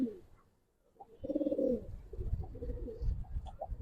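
A Giribaz pigeon gives a close, throaty coo, followed by softer rumbling coos and faint shuffling.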